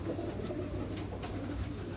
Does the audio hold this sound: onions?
no